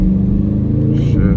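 A widebody Dodge Scat Pack driven hard in the rain growls loudly with a pulsing low engine note, and a brief voice breaks in near the end.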